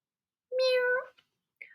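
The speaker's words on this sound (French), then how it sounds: "Un chat miaule." A single clear meow, close and fairly quiet, followed by a brief faint chirp-like trill in otherwise silence.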